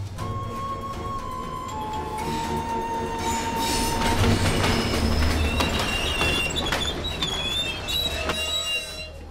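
A train pulls into a station with a rumbling rolling drone, clattering wheels and high metallic squeals of wheels and brakes that build toward the middle, heard alone without speech.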